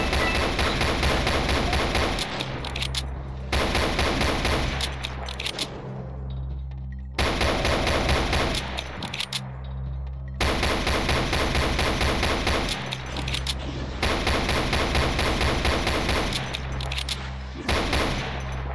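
Rapid gunfire in DOOM, played on the Golden Souls 2 mod, comes as loud, dense bursts of shots separated by brief gaps, repeating several times.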